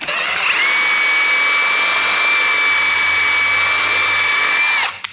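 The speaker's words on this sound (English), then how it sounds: "So what I'm gonna do is just drill this out a little." Power drill boring out a 3D printed Destiny 2 costume piece, a loud steady high whine held for about four seconds before spinning down, close up with no talk.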